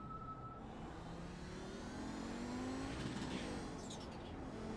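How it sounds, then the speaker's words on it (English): Audi 90 GTO race car engine in the iRacing game at Road Atlanta, a steady droning hum with rising engine tones, moderately loud and continuous throughout. "The Audi 90 GTO because I think it's a neat car and it sounds cool"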